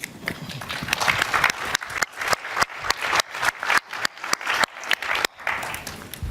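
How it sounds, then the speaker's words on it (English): An audience at a conference claps to welcome a speaker to the stage, loud close hand claps in a lively uneven patter with brief dips, a sizeable crowd applauding alone. "Please give him a very warm welcome."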